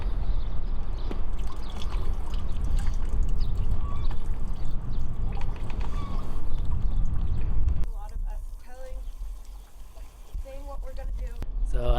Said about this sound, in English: So Ali's getting some water into our water tanks